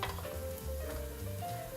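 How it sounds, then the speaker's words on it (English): Pancake batter dropped into hot frying oil sizzles steadily, a soft continuous crackle close by with no talking. "I'm going to drop a little bit of pancake in the middle to see"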